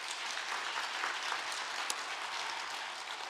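Church congregation applauding the women's choir at a Sunday afternoon praise service, a steady, even patter of clapping filling the room throughout without talk.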